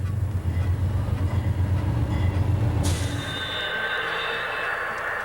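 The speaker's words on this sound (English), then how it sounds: "It takes a long time for a real train like this one to stop." New Hampshire Northcoast freight train rolling along the tracks with a low rumbling drone, then a sudden high wheel squeal around the midpoint that lingers as the rumble thins out.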